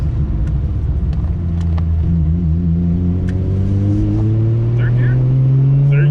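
A Nissan Skyline R34 on a dyno after a tune makes a loud third-gear pull. The engine note climbs steadily and strongly, close up, for the whole stretch.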